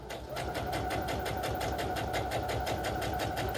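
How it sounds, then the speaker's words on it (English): A sewing machine runs continuously as it stitches around a pillow made from old linen gingham, a close, steady, even whir with a fast mechanical beat. "We're going to go ahead and sew all the way around the pillow."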